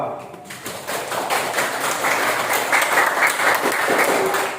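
Classroom audience clapping for a group presentation, a dense burst of close applause that builds and holds for several seconds, with a voice briefly heard at the start.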